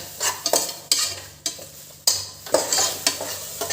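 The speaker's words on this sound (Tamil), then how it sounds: "இந்த இஞ்சி பூண்டு நல்லா வதங்கி இருக்கு" Ginger-garlic paste with onion and tomato sautéing in a pan, with repeated brisk ladle scrapes and stirring strokes over a steady hissing sizzle, close and fairly loud.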